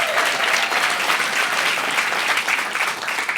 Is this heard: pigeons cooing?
no